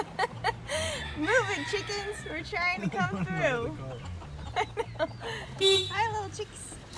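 Chickens cluck and squawk repeatedly all around at close range on a farm walk, with people talking over the birds the whole time.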